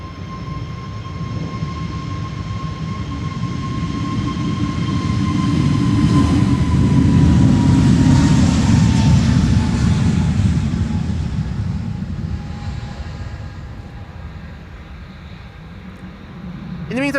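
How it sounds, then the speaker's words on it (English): An Airbus A321neo jet at the Polderbaan, its engine roar swelling to a broad peak midway and easing off again, with a thin steady whine running through the rumble. "The A321neo is pulling up."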